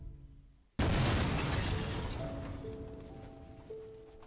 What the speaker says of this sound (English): I heard a deafening explosion.